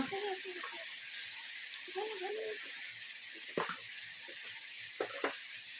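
Raw banana with turmeric and spices fries in a pan with a continuous faint hiss and crackle, broken by a few clinks and stirring scrapes, while someone talks over it.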